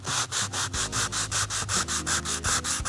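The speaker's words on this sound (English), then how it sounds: "Okay, so palm sand is palm sanding." Sandpaper rubbed by hand across a wood floor, a rhythmic back-and-forth scrubbing repeated about a dozen times, close and steady with no voices.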